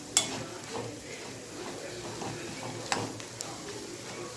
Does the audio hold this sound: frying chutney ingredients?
yes